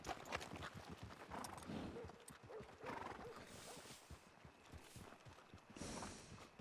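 Horse hooves clip-clop in Red Dead Redemption 2 as a horse walks at an even rhythm, with a neigh and whinny partway through, the hoofbeats clear and close throughout.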